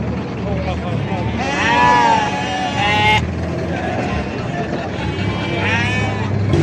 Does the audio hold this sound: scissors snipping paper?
no